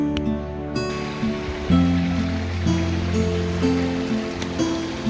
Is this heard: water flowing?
yes